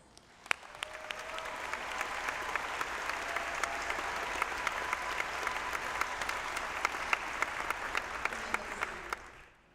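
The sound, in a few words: audience applause at a university graduation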